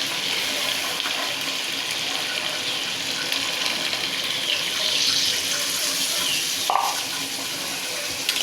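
Water pours steadily into a pan of prawn and green banana curry, a continuous splashing gush running throughout with a brief brighter clink near the end.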